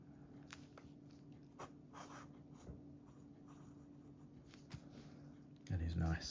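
A budget imitation of a LAMY Safari fountain pen writes on a standard notepad, giving faint, soft scratchy strokes in short bursts with a louder rustle near the end; quiet talk is present.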